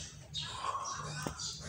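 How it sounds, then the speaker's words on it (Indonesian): A caged bird chirps in short, faint tweets, with a couple of brief calls close together over quiet indoor background noise. "Lihat burung di sangkar."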